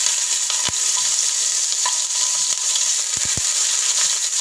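Grated garlic, ginger and chopped green chillies fry in hot oil, a loud, dense, steady sizzle with a few sharp clicks from stirring.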